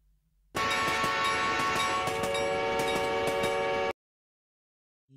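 A functioning train sounds a loud, sustained horn blast lasting a few seconds, rich and brassy with rumbling underneath, then cutting off abruptly into silence.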